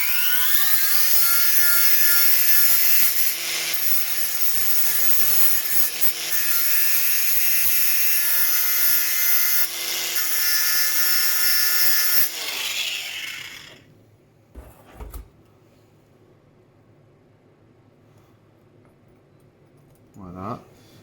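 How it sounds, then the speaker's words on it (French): A power tool grinds a steel weld area down to bare metal with a loud, sustained high whine for about twelve seconds, then spins down, leaving quiet workshop clatter and a brief whir near the end. "je vais blanchir ma zone de soudure là"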